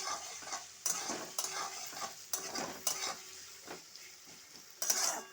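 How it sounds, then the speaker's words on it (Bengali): Onions and garlic paste frying in a pan, stirred with a utensil: a soft sizzle broken by repeated loud scraping strokes at irregular intervals of roughly half a second to a second. "রসুন বাটা দিয়ে দিলাম, দিয়ে এর সঙ্গে ভেজে নেব"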